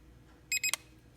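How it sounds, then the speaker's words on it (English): Two short electronic beeps from an SJRC S20W drone controller while tilting the camera, in quick succession followed by a sharp click, then one more brief blip a moment later, in a quiet room. "you will hear beeps as it's adjusting"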